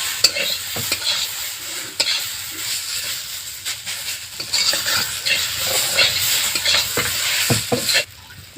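Frying in a pan with turmeric and salt added, a steady loud sizzle and hiss with repeated stirring scrapes, continuous over the whole stretch with no talk.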